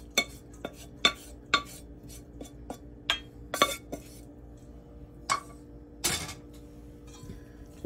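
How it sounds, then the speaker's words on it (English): Breadcrumb mixture tipped into an egg mixture in a bowl for a tuna loaf, a series of sharp light clinks and taps of utensil against dish, sparse and fairly faint. "I'm going to add that mixture to the egg mixture"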